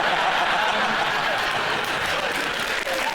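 A studio audience at a TV panel comedy show breaks into loud, sustained applause mixed with scattered chuckles, a dense steady wash of clapping throughout.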